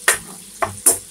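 Garlic and ginger paste sautéing in oil in a kadhai, giving three short bursts of sizzle and stirring close by, with no talk.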